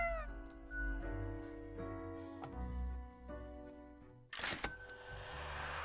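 A cat meows in a video game, quietly, amid tonal game music, followed by a sudden brighter burst of sound near the end.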